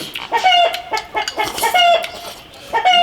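A hen clucks in loud, repeated bursts of sharp, throaty calls, close by, with brief pauses between the groups.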